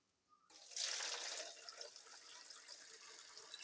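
Liquid is poured during rubber sheet processing, a sudden gushing splash that begins after a brief pause and then settles into a steady, moderately loud pouring stream.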